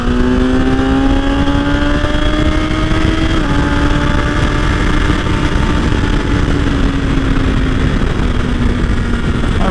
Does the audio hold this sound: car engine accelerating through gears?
yes